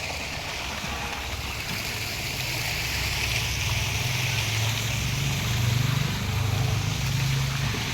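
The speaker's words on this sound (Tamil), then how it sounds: "இந்த தண்ணி பாருங்க எப்படி போகுதுன்னு" Steady rushing irrigation water flows continuously through a farm channel with a low rumbling undertone, broad and even throughout with no voices.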